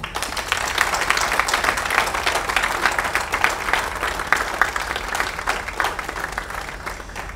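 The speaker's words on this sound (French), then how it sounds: "demander les acclamations en votre honneur" Sustained applause from a large crowd honouring the Congo women's national football team fills the space, dense and steady clapping that holds for several seconds before easing slightly at the end.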